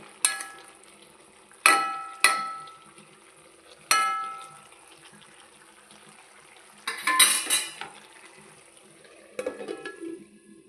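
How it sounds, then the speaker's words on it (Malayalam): Bitter gourd curry with tomatoes stirred in a pan, Kerala style: a few sharp metallic scrapes and clinks of a spoon against the pan, spaced apart, with a denser stretch of scraping midway and a soft sizzle underneath. "തക്കാളിയൊക്കെ ചേർത്ത് നന്നായി ഇളക്കി മൂടി വെച്ച് വേവിച്ചെടുക്കാം"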